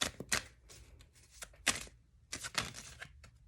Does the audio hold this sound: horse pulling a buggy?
no